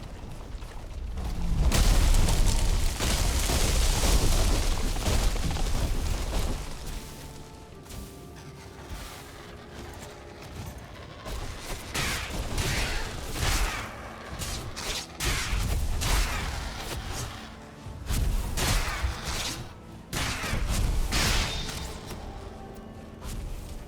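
Creatures in the video game Valheim explode in heavy booming bursts, one long roaring blast early, then a series of crashing, whooshing detonations of varying loudness that keep coming throughout.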